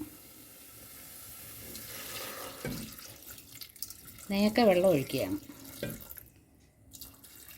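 Water pours into a pressure cooker holding carrots and a piece of ginger, a running, splashing stream with soft clatter, and a voice speaks briefly partway through.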